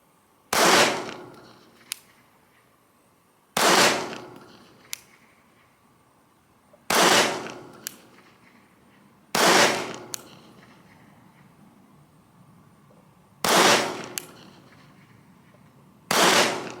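A Sig P365 XL pistol fires six loud, sharp gunshots at irregular intervals of about two to four seconds, each followed by a faint metallic clink, with no talking.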